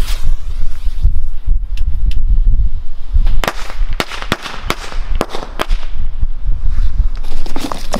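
A jumping jack firecracker on New Year's Eve sets off a rapid crackling string of sharp pops and bangs, erratic and loud, with a whistling fizz behind the bursts.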